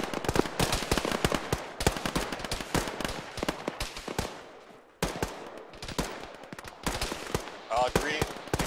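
Heavy automatic gunfire with tracers pours from a bunker in the military game Arma: dense, cracking bursts of rounds, loud and sustained, with a brief lull before the shooting resumes. Voices talk faintly beneath.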